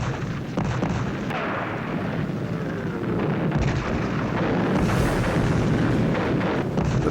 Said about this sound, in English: Now the Russians moved in with rockets and artillery fire